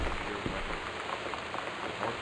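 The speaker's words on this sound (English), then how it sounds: "Weather Service reports high winds and torrential rain conditions" Heavy, steady downpour from a torrential storm in the video game Gone Home, a dense continuous patter of rain on surfaces with scattered louder drops, fairly quiet and alone with no voices.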